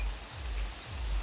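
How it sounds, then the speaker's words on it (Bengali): Rain falling steadily on a rainy day, a soft, even patter of drops on surfaces, fairly faint, with no talk. "আজকে সারাদিন বৃষ্টি হইতেছে,"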